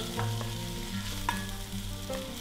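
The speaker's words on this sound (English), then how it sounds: "you're going to saute the onions on lowish heat for about 3 minutes" Onions sauté over lowish heat in a pan, giving a steady close sizzle and frying hiss with a few faint stirring clicks and no talking.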